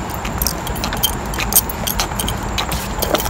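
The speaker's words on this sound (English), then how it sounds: "If you guys hear jiggling, by the way, it's my bag and my keys." Keys and a bag jingle steadily with each step of a neighborhood walk, a continuous close metallic rattle over outdoor background noise with faint traffic.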